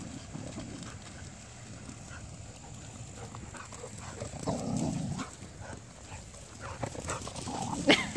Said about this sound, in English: Come on, puppy.